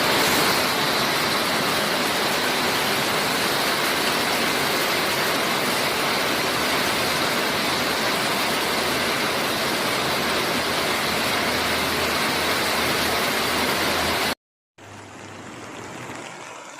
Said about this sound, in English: As river levels surged, floodwaters overflowed into low-lying residential areas